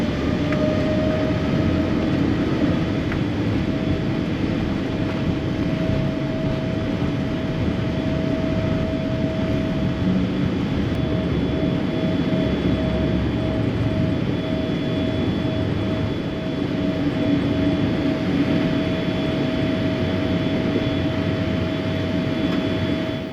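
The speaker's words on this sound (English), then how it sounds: "as we turned onto the runway to begin our journey to Bangkok." Air India airliner on its takeoff run from a New Delhi runway, heard from inside the cabin as a steady, loud, continuous engine roar and rumble with a sustained tonal whine, unbroken and without talking.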